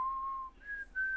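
Someone whistles a melody from the Jurassic Park theme, a sustained tone followed by two higher held notes, clear and close, alone without talk.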